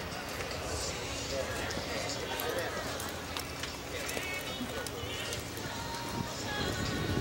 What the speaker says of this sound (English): Looks like Will's horse is ready to go.